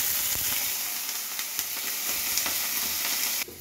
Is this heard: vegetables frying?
yes